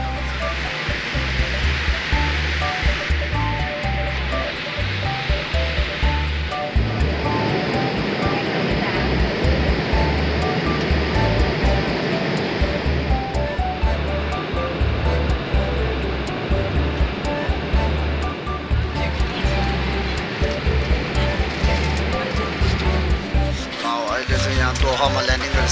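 Steady, loud airliner cabin drone during a flight to Doha: a continuous low engine rumble and air hiss that holds throughout with only slight swells.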